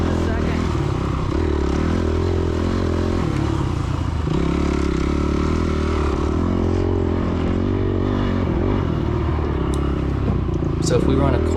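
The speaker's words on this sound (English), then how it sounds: "I could keep the engine revving." A dirt bike's engine holds a steady drone on a sand track, close and loud for the whole stretch, its pitch wavering slightly with the throttle and faint clatter now and then.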